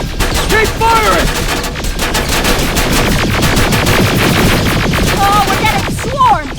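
Sustained rapid machine gun fire in the video game Terminator Extinction, dense bursts of loud gunfire running throughout with shouting voices breaking in near the start and end.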